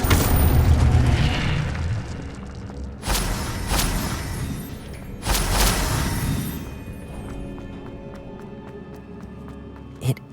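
Incendio fire spell cast in the Hogwarts Legacy video game, heard as a dense roaring burst followed by two sharp booming blasts a couple of seconds apart, then a fading rumble with a faint pop at the end.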